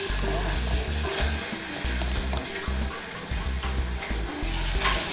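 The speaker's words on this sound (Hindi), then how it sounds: "प्याज को हल्का ब्राउन होने तक इसको फ्राई करेंगे" Chopped onions frying in a pan with a broken dried red chilli, a dense, bubbling sizzle up close, with a throbbing low rumble pulsing underneath throughout.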